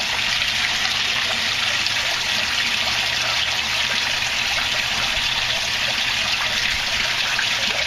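Water circulates steadily through an aquaponics system fed by a rain tank, a continuous hissing trickle and gush that runs unbroken and fairly loud throughout, with no voices.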